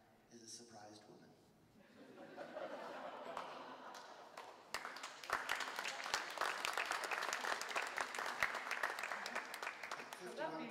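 Concert audience at a show breaking into applause, starting as scattered claps and swelling into dense, steady clapping that fills the room, with some chuckling and voices underneath.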